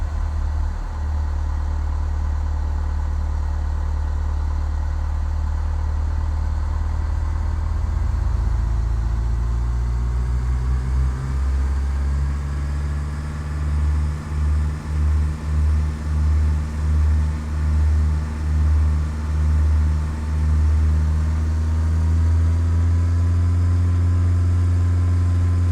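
A light aircraft engine in Flight Simulator X starts and runs. A steady idle hum gives way to a deeper rhythmic rumble that pulses at the low end, continuous and fairly loud, with no talking.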